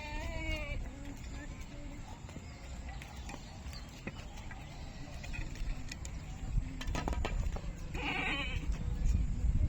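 A village flock of sheep and goats bleats in the morning, with a few wavering cries standing out over a busy background of shuffling and scattered noise.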